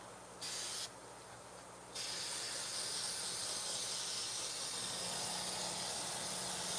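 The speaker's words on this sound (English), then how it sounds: "And for this, I'm using the Harbor Freight Quick Change airbrush." Harbor Freight Quick Change airbrush spraying pale clown face paint, a steady close hiss that starts in short bursts, then runs continuously without talk.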